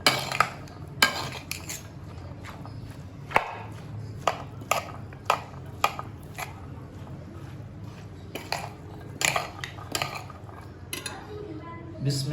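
A spoon stirring chana chaat with yogurt in a bowl, producing repeated clinks and scrapes of metal against the dish in an uneven rhythm, close and fairly loud, with no voice over it.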